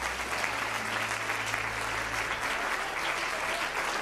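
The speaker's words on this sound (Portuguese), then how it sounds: "Então dê um aplauso bem forte ao Rei da Glória." Church congregation applauding in a dense, sustained wash of clapping that holds steady and loud throughout, with a low music drone underneath fading partway through.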